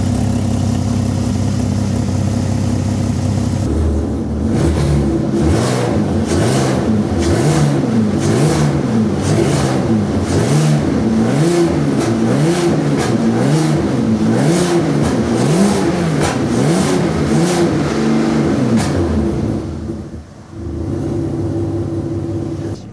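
A Peugeot 206 fitted with a VR6 engine runs loud and close, settling briefly before a long series of rhythmic throttle blips and revs, then dropping back toward idle near the end.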